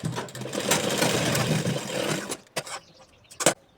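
An electric sewing machine stitches folded underwear fabric in a fast, close, steady whirring run for about two seconds, then stops, followed by a few short bursts of handling noise.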